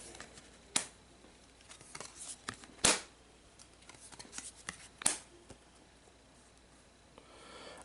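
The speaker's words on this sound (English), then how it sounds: "So let's just draw our 6 base cards." Playing cards being drawn and handled during a tabletop card game, giving a few soft papery flicks and shuffling rustles close by, with sharper snaps near the start, middle and end against a quiet room.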